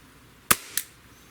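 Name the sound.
Glock 17 Gen5 pistol shot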